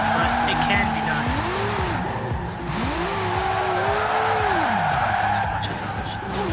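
A truck drifting in Forza Horizon 4, its engine whining and rising and falling in pitch as the tires squeal through the slide, loud and steady, with a voice speaking over it.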